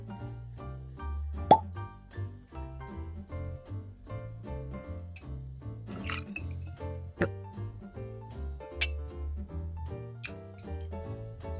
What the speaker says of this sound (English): we'll add our 2 ounces of Genever and give it a stir to chill